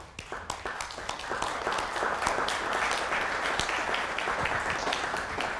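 Sustained audience applause at an evening school gathering honoring people who helped students, many hands clapping steadily and fairly loud for several seconds, with no talking over it.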